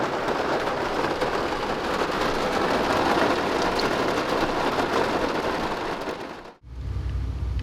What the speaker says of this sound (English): The rain passed and I gotta wait for the track to dry.